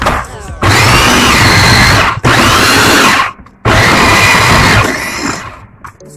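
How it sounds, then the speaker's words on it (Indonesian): A blender pureeing mulukhiya soup ingredients, loud whirring in three long bursts separated by short pauses, the last burst winding down into a softer whine. "Saya akan blender ya."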